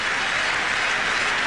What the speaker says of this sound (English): Let's just dwell on the applause that this young man is going to get.